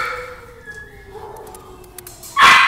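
Dogs in shelter kennels yelp and whimper in short bursts, ending in a loud close bark or burst of noise, with a faint voice in the background.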